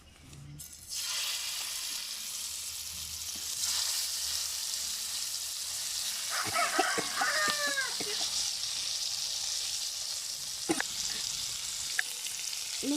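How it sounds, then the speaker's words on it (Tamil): Vaval pomfret fish frying on a flat dosa griddle, giving a steady close sizzle with a few short chirping sounds and clicks over the top, and no talk. "அடுத்து மீன் வறுக்க ஆரம்பிக்கலாம்"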